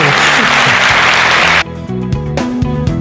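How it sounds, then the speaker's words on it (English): Loud applause fills the room, then drops away abruptly as music with a steady beat continues. "do a round of applause for yourselves"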